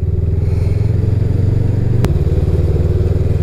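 A 2020 Honda CMX 500 Rebel motorcycle engine drones steadily at a low, throbbing pitch while riding in fourth gear, loud and close, with a brief click partway through.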